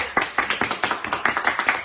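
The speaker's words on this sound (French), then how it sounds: "Applaudissez." A small group applauds a couple's eleven-year relationship during a drinking-game party, with several hands clapping in quick uneven bursts, close and moderately loud for a couple of seconds, alone with no talking.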